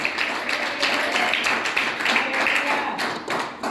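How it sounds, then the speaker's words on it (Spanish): A church congregation claps in applause, a dense, steady patter of many hands sustained throughout without a break. "Dale fuerte aplauso al que vive, dale fuerte aplauso al que te llamó"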